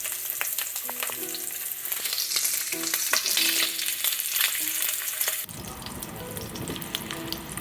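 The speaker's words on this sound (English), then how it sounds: "Put it on low heat and cook it for about 5 minutes" Sausages sizzle in a pan on low heat, a steady close frying hiss with light utensil scrapes, and the texture shifts to a softer, rougher hiss partway through; no one speaks.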